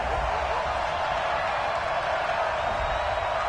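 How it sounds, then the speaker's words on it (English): Crowd at an NFL football stadium reacting angrily to a penalty flag during Titans at Ravens, a loud, steady wall of roaring and booing voices filling the space. "Well, the crowd doesn't like that."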